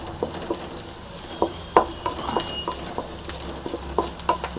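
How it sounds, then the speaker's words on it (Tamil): Curry leaves frying in a pan for a cauliflower dish, with a soft, steady sizzle broken by scattered crackles and pops and a few sharp stirring clinks close by, no talk. "இந்த கருவேப்பிலையும் போட்டு நல்லா ஃப்ரை பண்ணிங்க."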